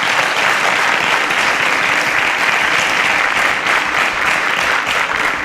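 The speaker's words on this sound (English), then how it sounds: "A round of applause for Habib." Steady, dense applause from a quiz show studio audience greeting a contestant, loud and continuous for the whole stretch without pause.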